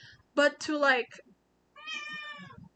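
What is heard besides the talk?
cat meowing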